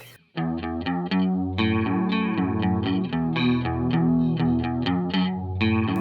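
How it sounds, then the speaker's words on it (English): Guitar run through a Safari Pedals Fox Echo chorus plugin: a rhythmic sequence of plucked notes and chords with a shimmering, wavering chorus, loud and steady, with no voices. "to get more or less of the chorus sound"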